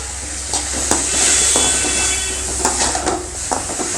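Tomatoes sauté in a pan for gravy with a bright, steady sizzle, while a spoon scrapes and taps against the pan several times at irregular intervals.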